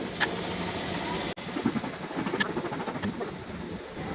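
Fish roe hits a hot pan and fries with a continuous crackling sizzle, steady and close, with small pops and one brief dip partway through.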